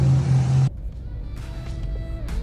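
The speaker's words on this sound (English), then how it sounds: "He's actually pulling up right now." A car, apparently a C6 Corvette, idles close by with a steady low drone, then cuts off abruptly, leaving quieter background rumble and faint scattered noises, with no talking.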